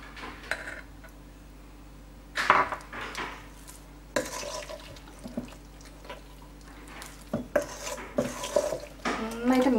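Appam batter mixed with sugar, stirred in a bowl with a spoon that clinks and scrapes against the sides in irregular strokes, close and fairly quiet.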